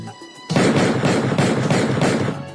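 A burst of rapid, loud gunshots, cracks and booms close by, following a brief quieter moment.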